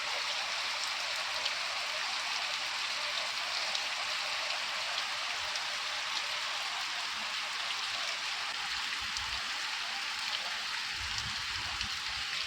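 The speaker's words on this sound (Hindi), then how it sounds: "इतना बारिश दे रहा है" Heavy rain pours down steadily over a village on a cold day, a dense and unbroken hiss of falling water close by with no pauses.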